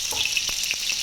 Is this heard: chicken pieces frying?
yes